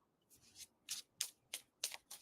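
Playing cards shuffled for a tarot reading, six crisp riffling bursts in steady succession, close and clear with no talk.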